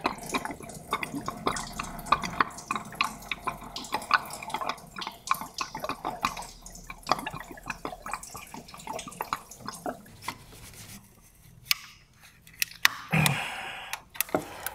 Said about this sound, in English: we can give it a little tap and just drain the coolant